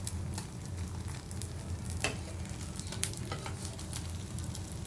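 Roti canai cooking in a dry pan with no oil, a steady close sizzle with soft crackles and occasional light scraping taps throughout.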